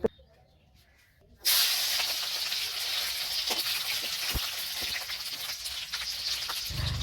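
Garlic with green and dried chillies drops into hot oil and bursts into a loud, steady sizzle after a brief quiet start, continuing without letup.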